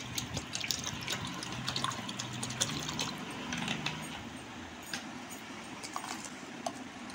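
Water poured steadily into a bowl of curd (dahi) while preparing dahi bara, an Odia Raja festival dish; a continuous, fairly quiet splashing gush runs through the whole stretch with no talking.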